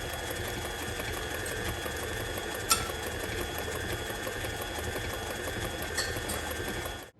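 An electric mixer beats cranberry brown sugar cookie dough in a bowl, a steady close whir running throughout with two brief knocks, then cutting off at the end.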